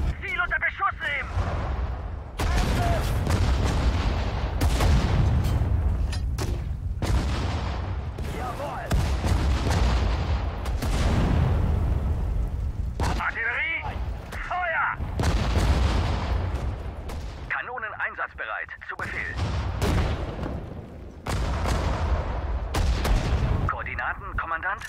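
Artillery and small-arms fire in the WWII strategy game Sudden Strike 4: repeated loud booms and crackling gunshot bursts through most of the stretch, with German voiced unit commands cutting in between.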